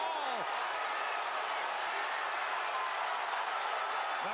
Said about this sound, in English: The crowd eating up every single second.